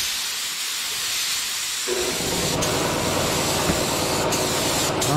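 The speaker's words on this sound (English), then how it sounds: "I'll go ahead and cut this off so we don't have to hear the air compressor." Air compressor running steadily during spray painting of a vintage surfboard, a dense continuous hiss that grows louder and fuller partway through, close and unbroken with no voices.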